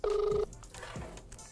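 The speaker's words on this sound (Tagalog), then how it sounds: "telepono." A telephone gives one short electronic ring tone, steady and fairly loud for under half a second, before fading into low background sound.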